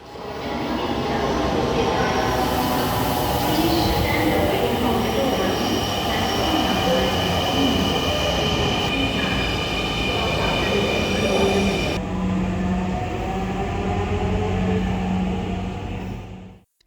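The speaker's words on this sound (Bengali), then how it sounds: "আগারগাঁও স্টেশনে টিকিট হাতে নিয়ে এক মিনিট দাঁড়িয়ে থাকতেই মেট্রো রেলটি আমাদের সামনে এসে দাঁড়ায়" A Dhaka metro rail train pulls into Agargaon station, its loud steady rumble and wheel squeal filling the platform throughout, with faint voices underneath.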